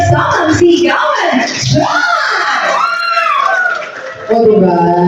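Wedding reception guests yell and whoop loudly together in a big crowd, the shouting rising and falling over several seconds before a fresh burst of cheering near the end.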